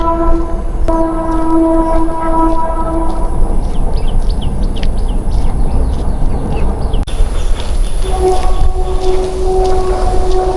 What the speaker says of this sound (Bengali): ট্রেনের আওয়াজ হচ্ছে